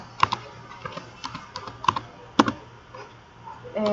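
Keys clack on a computer keyboard as a username and password are entered: a short, irregular run of crisp, close keystrokes with small pauses between them.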